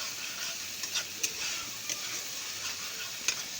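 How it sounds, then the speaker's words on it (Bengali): Onion, ginger, garlic and tomato paste fries in mustard oil in a kadai, a steady soft sizzle with occasional scraping taps of a spoon as the masala is stirred, fairly quiet and with no speech. "ভালোভাবে মশলাটা কষিয়ে নেব।"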